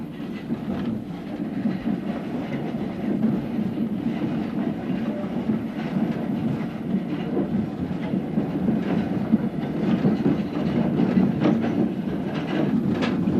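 Steady rumble of a London city train running on rails on the approach to Broad Street, passing the old Shoreditch station, with continuous low wheel noise and faint clickety-clack, close and unbroken throughout.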